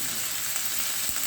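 Spices fry in oil in a hot pan for a Bengali dhoka of pointed gourd, ridge gourd and mung dal, a dense, even sizzle that stays loud and close throughout.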